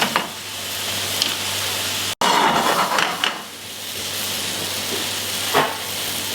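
Blueberry farinette batter cooking gently in fat in a pan, a soft steady sizzle under close clatter of a utensil against the pan, with a brief break partway and occasional sharper taps.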